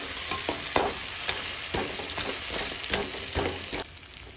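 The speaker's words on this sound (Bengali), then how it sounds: "মাছগুলো দিয়েও আমি কিছুক্ষণ নাড়াচাড়া করব।" Fried fish pieces being stirred into sizzling masala in a pan for Bengali fish-head mung dal, a steady frying hiss broken by repeated scraping stirs of a spoon, close and fairly loud, with no talking.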